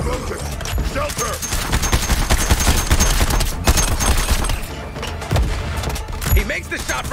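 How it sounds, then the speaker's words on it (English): Dense video-game battle sound from Suicide Squad Kill the Justice League: rapid gunfire bursts and booming explosions pile up continuously and loudly, with sharp thumps and crackling debris throughout. "Here comes the explosion! Shelter!"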